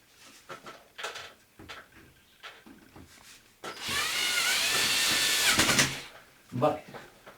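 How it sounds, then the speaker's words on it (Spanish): A power drill drives screws into a roller blind fitting, a short buzzing whir of about two seconds set between quiet tapping and handling sounds, with a few more brief tool noises near the end. "Colocamos los tornillos en su sitio."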